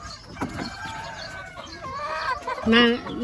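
Chickens cluck and squawk close by on a small egg farm over farmyard background noise, with a louder burst of harmonic calling near the end.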